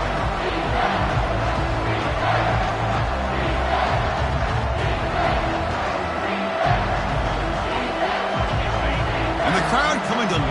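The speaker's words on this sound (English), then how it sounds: "the crowd coming to life here, trying to help this defense down in the red zone" Stadium crowd at a college football game, USC against Florida, roars steadily throughout as a dense, sustained wash of noise while the defense holds in the red zone, with a commentator talking over it.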